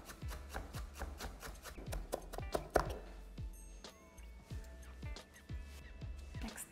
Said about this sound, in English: I've got a bunch of dill that I've picked and washed and spun dry. Just going to chop that.